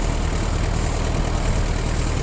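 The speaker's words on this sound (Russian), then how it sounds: "думаю, слышно, мотор работает. Мотор работает очень и очень ровно." A Kubota Saturn X20 Japanese mini tractor fitted with a tiller idles steadily, its engine giving an even, low, continuous rumble close by with no talking.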